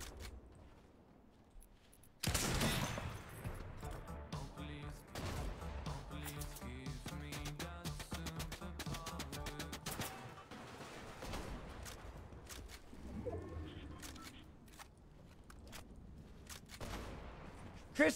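Video game gunfire in a solo match, rapid bursts of shots and automatic fire rattling on through the stretch, loud and dense with brief pauses, faint talk in the background.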